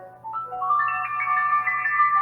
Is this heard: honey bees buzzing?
no